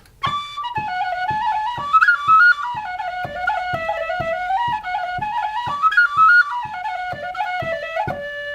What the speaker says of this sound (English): So the regular tin whistle is.